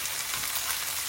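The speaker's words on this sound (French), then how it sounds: "Et on laisse mijoter" Beef and vegetables cook in a pan, giving a dense, steady sizzle with continuous bright crackle close by and no pauses.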